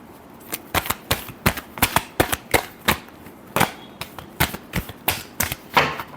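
Tarot cards being shuffled by hand, a rapid series of sharp riffling snaps and flutters repeating in quick bursts, close and crisp with no talking.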